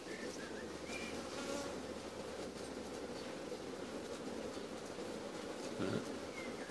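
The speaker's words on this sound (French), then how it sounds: "Un bourdon." A bumblebee buzzes in a steady low drone with faint higher flickers, heard outdoors against a constant noisy background, with no talk.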